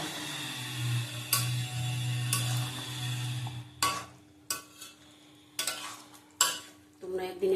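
Chicken with fried potatoes being stir-fried in a pan for a Bengali five-spice yogurt chicken, with a soft sizzle and a series of distinct scraping, clattering stirs, close and fairly quiet.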